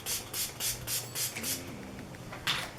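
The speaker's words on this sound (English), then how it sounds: "it is a straight up glitter spray" A glitter spray is misted onto the chest in a quick series of short, close hissing bursts with brief pauses between them.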